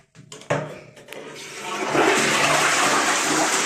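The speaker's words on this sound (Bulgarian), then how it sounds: "Пускаме си водата." A toilet flushes up close in a bathroom, starting with a sharp click of the handle and swelling into a loud, sustained rush of water that fills the rest of the stretch.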